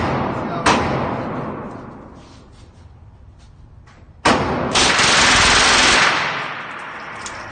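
A short-barreled Ruger 10/22 .22 rifle in open-bolt full-auto configuration fires loud, close bursts: one sharp report early, then a rapid buzzing burst lasting under two seconds, with a faint voice nearby.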